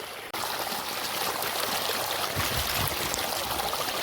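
Running water flows steadily in a farm field, a close, continuous rushing trickle that stays even for the whole stretch with no voices over it.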